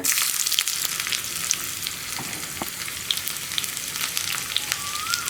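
Steady, close sizzling of onions frying in hot oil, a continuous crackle with scattered pops and no voices.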